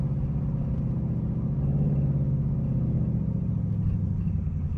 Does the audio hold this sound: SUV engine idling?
yes